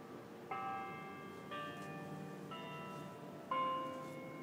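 Bells ring out in a slow sequence, four clear strikes roughly a second apart, each tone lingering and overlapping the next over a steady background hum.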